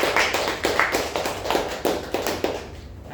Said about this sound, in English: So we can give yet another applause for him.